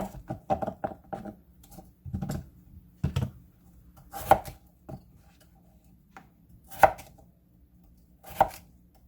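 A large potato being halved and quartered with a knife on a cutting board, a quick burst of sharp chops followed by slower, spaced single thuds, close and clear with no talking.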